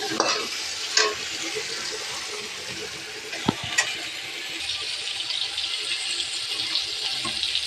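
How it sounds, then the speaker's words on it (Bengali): Onions fry with panch phoron in a pan, a soft, steady sizzle under occasional scraping and stirring clatter, fairly quiet and close, with no talking. "এই যে একটু পেঁয়াজ ভেজে নিচ্ছি, একটু পাঁচ ফোড়ন দিয়ে পেঁয়াজ দিয়েছি।"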